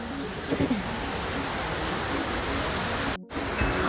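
Rain falls at a resort in Lonavala as a dense, steady hiss that fills the whole stretch. The sound drops out abruptly for a split second near the end.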